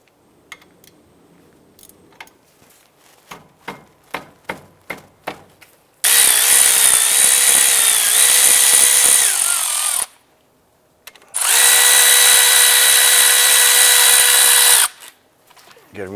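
Power tool spinning out the 13mm brake caliper bolts on a 2006-2011 Cadillac DTS during a front brake job, two loud sustained whirring bursts of about four and three seconds after a series of short clicking taps.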